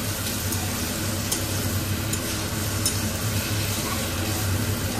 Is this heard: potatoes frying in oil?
yes